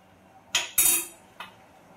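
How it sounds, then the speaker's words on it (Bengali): A spoon stirs sugar syrup in a pan for tooti frutti, making three short metallic scrapes and clinks against a quiet background. "এই চিনিটা যতক্ষণ না গুলে যাচ্ছে ততক্ষণ নাড়তে থাকবো।"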